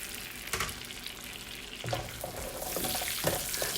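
Carrots sizzling in melted, foaming butter in a pan, a soft steady crackle with brief louder hisses and stirring scrapes, fairly quiet and close.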